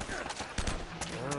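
Gunfire from the video game Uncharted rings out as several quick, sharp shots in a brief burst, mixed with game noise and close.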